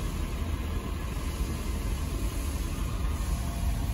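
A 2019 Toyota 4Runner sits idling, a steady low engine hum mixed with broadband noise, close and constant, with no speech.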